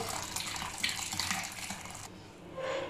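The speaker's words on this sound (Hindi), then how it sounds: "अब ये जो फटा हुआ दूध है इसको हम छान लेंगे।" Liquid from curdled milk poured and strained through a clean muslin cloth set in a strainer over a pot, giving a steady close splashing and trickling that eases off briefly before resuming.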